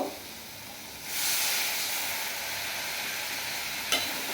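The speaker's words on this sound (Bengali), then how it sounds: "দিয়ে ভালো করে নেড়ে চেড়ে নেবো" Katla fish curry with mustard and potato being stirred in a pan, giving a steady close sizzling hiss that swells after a second and continues evenly, with a faint clink near the end.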